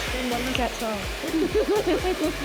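Hair dryer with its nozzle removed, blow drying hair, a steady airy whoosh running continuously under someone talking nearby.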